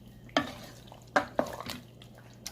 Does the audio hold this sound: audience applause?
no